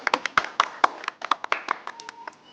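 A small group claps by hand, quick irregular claps that overlap in a brief, ragged burst, close by and without any speech.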